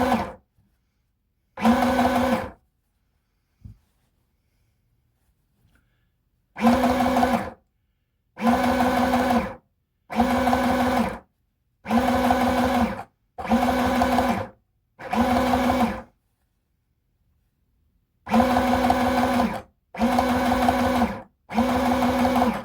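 Sewing machine running in repeated bursts of one to two seconds, ten or so separated by short pauses, while stitching a final segment of a red cotton skirt with a double seam; close and steady, no talking.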